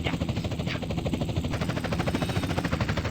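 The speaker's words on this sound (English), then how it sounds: "I'm only hearing the helicopter sound on one side of my ear sometimes too" A helicopter in GTA San Andreas, a steady rapid rotor chop with a continuous engine drone, loud and close, heard alone.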